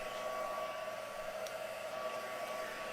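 A handheld heat tool blows steadily onto a freshly stamped card, a continuous whooshing roar with a faint whine, close and unbroken from start to finish.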